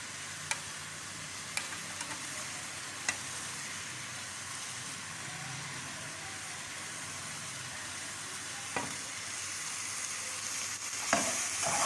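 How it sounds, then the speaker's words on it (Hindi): Green chilies, coriander and mint frying for samosa filling make a continuous soft sizzle in the pan, with occasional light clicks of stirring utensils and no talking. "बिल्कुल हल्का सा साथ फ्राई करना है।"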